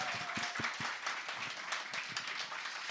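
Audience applause with scattered claps at a Korean talk show taping, a steady dense wash of clapping throughout, moderately loud and without speech.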